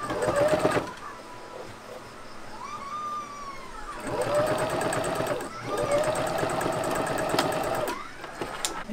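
A sewing machine stitches old clothes into a tote bag, its motor whirring in steady runs of several seconds, broken by short pauses and faint handling of the fabric.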